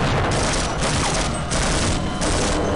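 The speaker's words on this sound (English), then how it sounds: "These guys just go nuts with those grenades." Grenade explosions in the video game Half-Life: Opposing Force, heard as a dense, loud, continuous barrage of blasts and gunfire-like booms with no let-up.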